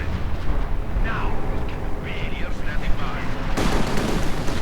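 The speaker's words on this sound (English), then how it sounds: "There you go, strafing round." Artillery strafing barrage in Company of Heroes 2, a 1v1 match between Soviet and German armies: a dense, rumbling wall of rolling blasts and crackling gunfire. It runs steadily throughout and thickens toward the end, with a faint voice underneath.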